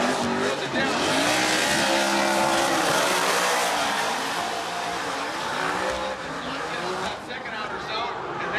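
Drift cars at a Formula Drift event in Long Beach roar and squeal their tires continuously, loud engine revs and screeching rubber filling the clip, with an announcer talking over the noise.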